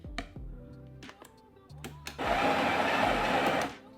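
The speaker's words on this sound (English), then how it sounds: "So I'm going to go ahead and grind 18 grams of coffee into this basket." A coffee grinder grinds 18 grams of espresso coffee into a basket: a few short bursts and clicks, then a loud, continuous whirring grind for over a second that stops abruptly, close up and with no speech.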